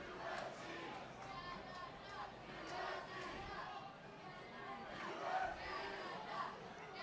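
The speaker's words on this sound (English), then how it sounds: "Crowd now chanting Canada, Canada." A distant crowd at an ultimate frisbee world championship final chants "Canada" rhythmically amid general roaring and chatter, fairly faint and steady for several seconds.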